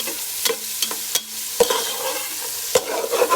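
Tomatoes and green chilies frying in a pan under a soft sizzle, broken by several sharp scrapes and clacks of a spoon stirring against the pan, spaced irregularly and fairly close.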